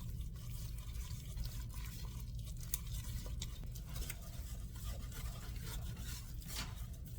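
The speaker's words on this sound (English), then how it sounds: "we're gonna sit here and stir this until this is nice and chocolatey brown" Flour and avocado oil being stirred steadily for a chicken and sausage gumbo roux, a continuous soft scraping and bubbling texture with faint clicks, fairly constant level and no talking.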